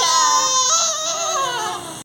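A baby cries in a sustained, high wailing burst, loud and close, with the pitch rising and falling before it cuts off.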